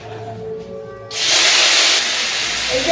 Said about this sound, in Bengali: তেলও দিয়ে দিয়েছি কড়াইতে আগে আলুটা দিয়ে দিই